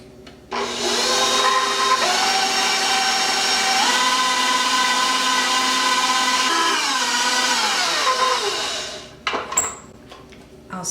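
Electric hand mixer whirring steadily through a pumpkin chocolate caramel pie filling for about eight seconds, its motor pitch shifting as it works, then stopping with a few clinks of the bowl.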